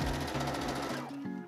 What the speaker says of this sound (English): I'm going to sew it down this seam that we just sewed